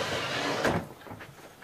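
An old wooden cutting-board drawer from a vintage kitchen unit is lifted and slid open, giving a short scraping wooden slide with a knock in the middle, close and moderately quiet.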